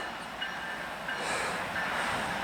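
A train rolls past near an active oil refinery, a steady broadband rumble and rush of wheels on rails with faint high squeals, holding even and continuous throughout with no voices.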